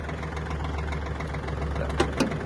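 Kubota L1-185 Japanese mini tractor moving very slowly, its engine idling in a low, steady thrum with a slight knocking texture and a couple of brief louder clunks near the end.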